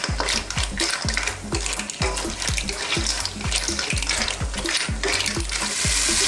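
Clams, shrimp and salmon are stirred in shrimp stock in a pan for pinoy-style seafood spaghetti, a spoon scraping in a steady, quick rhythm over constant close bubbling and sizzling.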